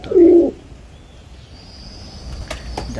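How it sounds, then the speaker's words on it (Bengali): Pigeons kept for show give one short, soft, low cooing call near the start, followed by faint background sounds. "দেখেন কত সুন্দর সুন্দর কবুতর।"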